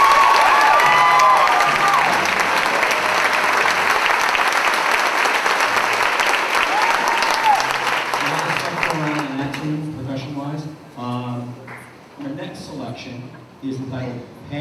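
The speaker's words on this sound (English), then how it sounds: "How about a nice round of applause for our percussion section?" Audience applause and some cheering at a 7th and 8th grade spring school band concert, sustained loud clapping for the percussion section that tapers off, with a voice speaking as it dies down.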